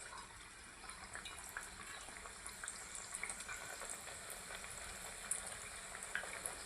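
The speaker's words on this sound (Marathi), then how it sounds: "आपण तेलात टाकू, एक एक तळून घेऊया." Chakli dough fries in hot oil, giving a faint, continuous bubbling sizzle with small crackling pops scattered through it.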